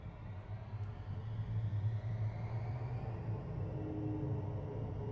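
A light aircraft engine runs at full throttle with the brakes held, a loud steady droning roar with deep rumble that holds constant throughout.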